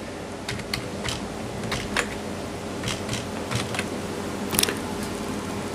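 Someone typing a password on a computer keyboard: a run of irregular, fairly close key clicks over a steady background hum, with one small burst of taps near the end.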